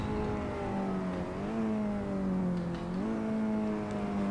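Racing car engine in a sim racing game lap driven with a Thrustmaster TH8A shifter, a steady droning whine that dips and climbs through gear changes, heard alone without talk.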